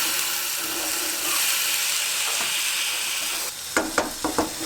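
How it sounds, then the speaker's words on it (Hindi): Peas and spices stirred in a hot frying pan: a dense, steady sizzle, then a cluster of sharp spoon scrapes and knocks against the pan near the end, close and loud. "अब इसके बाद इसे मिक्स करेंगे थोड़े से ये मटर"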